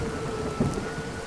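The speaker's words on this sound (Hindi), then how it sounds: "कुछ ही पलों में बूंदें तेज धार में बदल गई।" Heavy rain pours in a constant dense hiss while a low rumble of thunder swells briefly in the middle, a stormy night scene with no voices.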